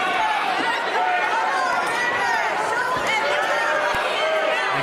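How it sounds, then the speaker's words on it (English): A wrestling crowd in an Altoona arena keeps up a dense, steady roar of cheering and chanting for Jake the Snake, with many voices blending into one loud wash. "The crowd going wild for Jake the Snake"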